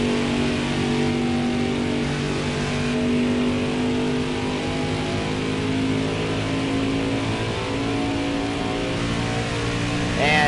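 A pack of NASCAR Truck Series race trucks roars around Pocono at the start of a race, a loud, steady blend of many engines with droning harmonics and shifting pitch, heard close and continuous.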